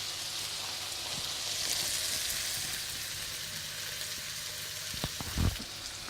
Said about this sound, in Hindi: 2 मिनट तक इसको फ्राई करेंगे।